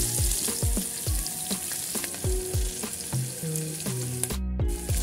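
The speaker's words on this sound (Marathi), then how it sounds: "आता आपण त्याच तेलामध्ये तेजपत्ता टाकू। बारीक चिरलेला कांदा," Bay leaf and finely chopped onion hit hot oil for an egg pulao, giving a steady close sizzle with occasional stirring and tonal sounds layered over the frying; no one speaks.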